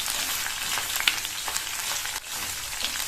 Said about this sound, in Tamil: மீடியம் ஃப்ளேம்ல வச்சு இந்த பாவக்காய் நல்லா எண்ணெயிலேயே ஃப்ரை ஆகணும்